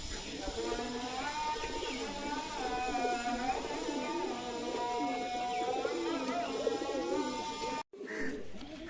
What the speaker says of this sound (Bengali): দেশি পায়রা হবে, দেশি গিরিবাজ মুর্শিদাবাদী।